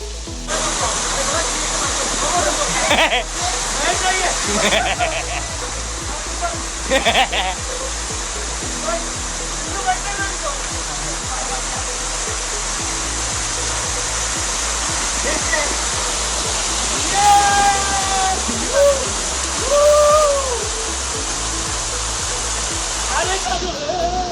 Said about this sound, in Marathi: पाणी एवढं जोरात वाहत आहे